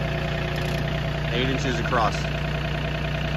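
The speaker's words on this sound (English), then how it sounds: "It never ceases to amaze me how well this tractor runs" A John Deere 3025e compact tractor idles steadily nearby with a low, constant engine hum and a slight rhythmic throb, while someone talks over it.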